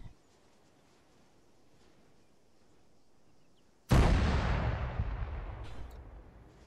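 A single heavy artillery blast from the military sim Arma, booming suddenly after quiet ambience and trailing off in a long rumbling decay.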